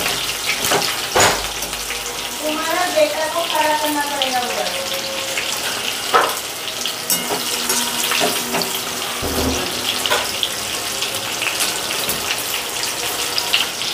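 Chicken pieces for garlic chilli chicken fry in hot oil with a steady, hissing crackle, close and fairly loud, while a voice briefly speaks over the sizzle early on.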